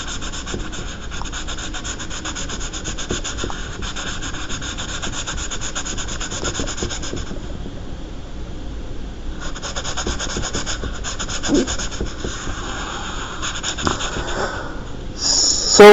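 Pencil scratching and shading on paper, a steady dry rubbing texture running throughout at close range, with brief pauses and a few louder strokes near the end.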